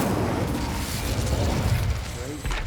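An Incendio fire spell from Hogwarts Legacy bursts with a loud, roaring blast of flame that fills the short moment with dense crackling noise, tapering off near the end with a faint mechanical clatter.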